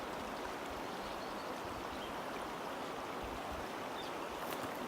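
Clear water of a mountain stream on the Colorado Trail rushes steadily, a dense, close, continuous wash that holds even for the whole stretch with no voices.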